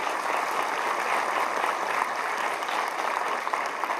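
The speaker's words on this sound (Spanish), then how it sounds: "Un aplauso, por favor." Audience at an international agro-industrial symposium applauding, a fairly faint, even, continuous patter of many hands clapping with no voices over it.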